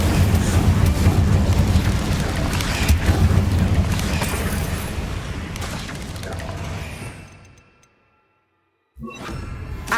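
An Incendio fire spell in the video game Hogwarts Legacy bursts with a loud booming whoosh that rumbles and fades out, then a short burst of sound returns after a moment of silence.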